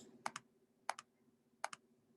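Three pairs of crisp double clicks come from a laptop mouse pad, evenly spaced and close against a quiet background.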